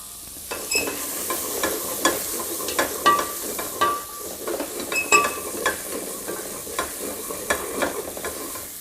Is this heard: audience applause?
no